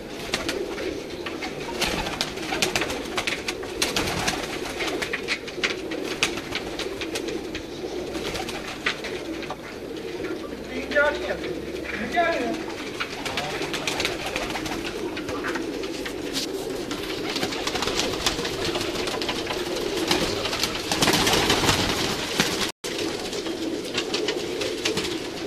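Teddy pigeons coo in soft, repeated phrases amid a continuous bed of bird noise and faint background sounds, with occasional brief louder bursts near the end.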